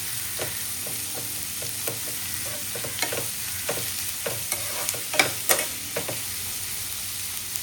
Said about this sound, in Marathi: आपलं थोडासा कांदा हलकासा परतून घ्यायचा आहे बघा छान